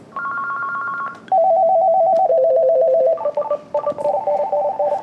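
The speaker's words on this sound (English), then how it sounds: "by pressing 1 through to 8, you'll hear a variety of ringtones" An NEC SL1100 office telephone handset cycles through several electronic ringtones, from a steady warble to faster stepped trilling melodies. The tones play loud and clear with no voices.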